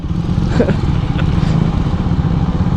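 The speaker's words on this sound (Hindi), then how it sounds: "सो घर के अंदर चलते हैं और बाइक को लगाते हैं पार्किंग में।" A motorcycle idles and rumbles loudly up close as it is brought in to park at a house, with a few clatters over the steady engine drone.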